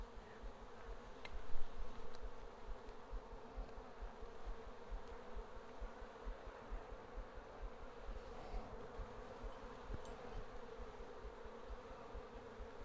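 Honey bees buzz steadily around an open beehive during an inspection, a soft, continuous drone with occasional faint knocks and handling clicks.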